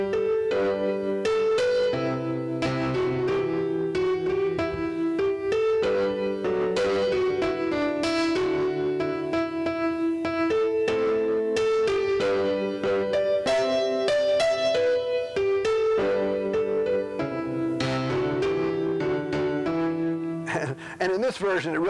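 The hymn tune "I Would Not Live Alway" played in its white version, a sustained melodic line with steady chords that continues without a break and ends in a brief swell.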